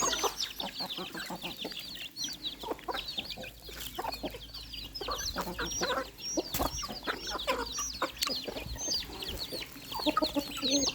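Hens and chicks cluck and peep continuously up close, with many overlapping high chirps from the chicks over lower clucking from the hens, steady and busy throughout.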